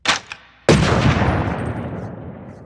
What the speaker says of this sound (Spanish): Disparó una vez a Mark,